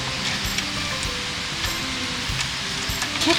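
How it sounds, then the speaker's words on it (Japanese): Rain begins falling on a campsite, a steady broadband hiss with scattered close drop taps throughout, no voices. "もういきなり雨降ってきた。"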